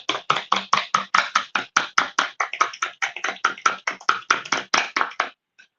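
Jamaican cornmeal porridge is stirred by hand in a pot, making rapid, evenly spaced scraping strokes, about four a second, close and crisp, before stopping abruptly.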